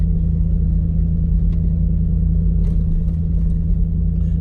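A 2006 Hummer H2 with over 350,000 miles cruising down the road, giving a steady, heavy low-end engine drone and road rumble that holds constant throughout, heard from inside the cabin.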